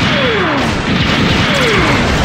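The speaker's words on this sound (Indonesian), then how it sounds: "Kena tembakan golem gede coy." A big golem fires a shot that strikes the player in the retro arcade game Great Battle Fullblast, a dense, loud crash-and-boom game effect with descending tones sweeping over steady background game music.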